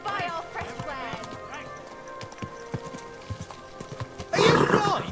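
Horse hooves clip-clop steadily along a road in Kingdom Come Deliverance 2 on PS5, close and moderately loud, as a rider and townsfolk talk over them and a loud crowdy burst swells near the end.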